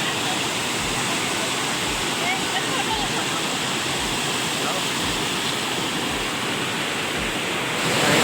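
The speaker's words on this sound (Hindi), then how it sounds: "झरना की आवाज़ बहुत ज़्यादा है।" A waterfall at a crowded Sunday picnic spot roars as a loud, steady broadband wash of falling water, close and unbroken throughout, with no clear speech over it.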